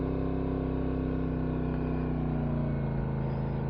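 Aprilia RS457 motorcycle engine runs steadily as the ride begins, a continuous low droning hum with a strong even pitch that holds nearly constant at moderate loudness, no voices.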